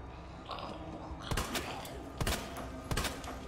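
Warning gunshots fired in Resident Evil 2: three sharp, separated cracks ring out over quiet background rumble, each with a brief tail, fairly faint overall.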